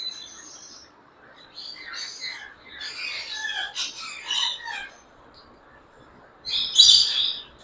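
A high red factor pineapple conure pair gives bursts of bright, high chirps and tweets, clustered in a busy run through the middle and then one sharper, louder call near the end, close by with no talk.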